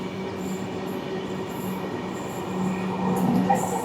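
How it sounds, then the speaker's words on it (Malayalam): The Navajeevan Express runs past on the next line to a moving Kerala Express, a steady, loud rumble of wheels and carriages that builds toward the end, with faint squeals over the din. "നവജീവൻ എക്സ്പ്രസ് ആണ്."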